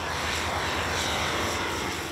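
A small two-seat propeller airplane drones steadily in flight over a wildlife sanctuary in Mozambique, a dense, continuous engine roar heard close, as if from on board.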